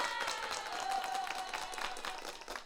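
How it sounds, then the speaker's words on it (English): A live audience at a barbecue tavern talk show gives a round of applause after the conversation: a full, even crowd clapping that holds steady for a few seconds and sounds moderately close. "So let's all give him a round of applause for the great conversation."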